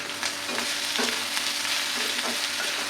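Elephant foot yam sautéing in hot oil, a dense, even sizzle heard up close with a few soft stirring knocks, no voices.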